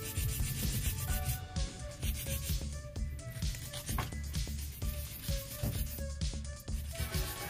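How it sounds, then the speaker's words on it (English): A metal nail file rubbing along very long coffin-shaped acrylic nails, producing a continuous soft scratchy rasp close by that runs without pause and without speech. "The great thing about filing the nails with a fantastic file too is that with long nails you can get a really sharp straight side"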